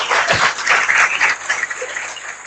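An audience of students at a coaching institute meet-up claps together in a dense, continuous burst of applause, fairly close and loud throughout.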